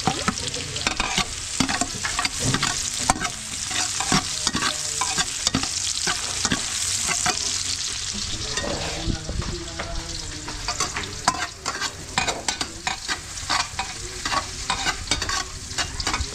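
Ginger and onion sautéing in a hot pan, a loud dense sizzle with constant rapid spatula scraping and stirring clatter throughout, close up.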